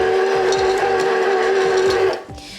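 An electric mixer on a low setting stirs apricots into cookie dough, giving a loud, steady motor whine with soft rhythmic thumps from the beaters before it cuts off near the end.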